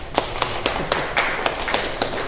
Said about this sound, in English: Give Keno a round of applause.